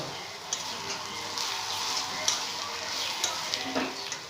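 Coriander and cumin powder are stirred into a pan of jackfruit and prawn curry, giving a steady sizzle with repeated scraping and clinking strokes of a spatula close by.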